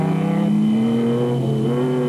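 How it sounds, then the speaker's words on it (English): The Castrol Toyota Land Cruiser off-road racer's engine drones loud and steady during a desert off-road race, its pitch climbing gradually as it accelerates, with no talking. "Schumi van Vieren looms into view in the Castrol Toyota Land Cruiser"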